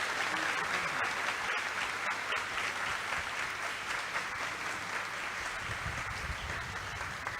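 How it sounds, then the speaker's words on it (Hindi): Audience applause welcoming guests at a devotional gathering, steady dense clapping filling the hall throughout with a faint voice underneath. "तो एक बार तालियों के गर्जना से इनका स्वागत किया जाए।"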